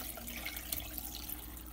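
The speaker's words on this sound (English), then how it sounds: "we are going to be using a strainer to strain the boiled pineapple water from the peel" Boiled pineapple water poured through a strainer to separate it from the peel, a quiet, steady trickling splash of liquid running throughout at close range.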